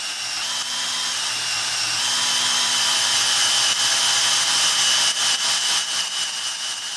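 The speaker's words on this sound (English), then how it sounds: "We can start drilling." A power drill bores out lug studs on a Jeep Cherokee Chief, running as a steady high-pitched whine for seven seconds with slight shifts in pitch and load, no voices over it.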